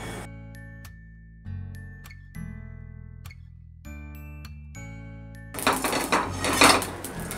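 Cumin and black pepper dry roasting in a pan for sambar powder: a run of bright metallic clinks and taps of a utensil against the pan, then a louder dry, crackling rustle of stirred spices near the end.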